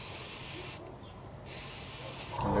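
A soft, steady hiss of an airbrush spraying paint onto the sides of a blank fishing lure, pausing briefly before resuming, close and fairly quiet.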